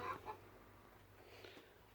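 Soft hen clucks come in a few brief bursts near the start, then a quieter farmyard murmur continues with faint low background hum.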